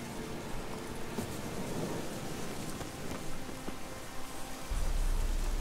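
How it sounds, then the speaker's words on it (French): Thunderstorm in the video game The Witcher 3, a steady wash of heavy rain with a low rumble of thunder swelling near the end, no speech over it. "Wow, c'est une tempête là ou quoi?"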